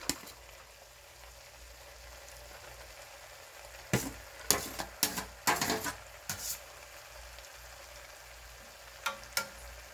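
Vegetables hit a hot pot while cooking a vegetable dum biryani, giving a faint steady sizzle broken by a run of sharp clatters and crackles in the middle and a couple more near the end.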